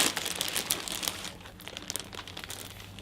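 A small plastic bag holding a cosplay item is handled and opened up close, giving quick, crisp crinkling and rustling that comes in bursts, fairly quiet and with no talking.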